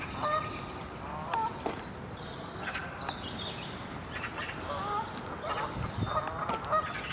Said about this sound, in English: Plenty of Canada geese about.